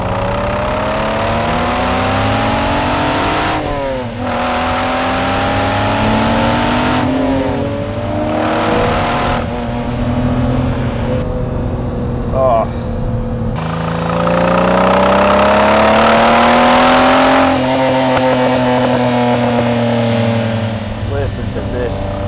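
The flat-12 engine of a Ferrari 512M is revved hard in several long pulls, pitch climbing and falling with each, loud and close throughout with a brief drop between bursts.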